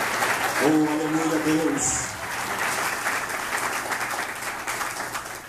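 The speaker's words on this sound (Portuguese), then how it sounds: "Aplauda o Senhor Jesus, você que acredita na mensagem." A church congregation claps during a forceful sermon, the applause running continuously while a voice briefly exclaims praise near the start.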